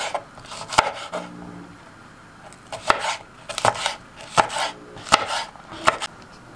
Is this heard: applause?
no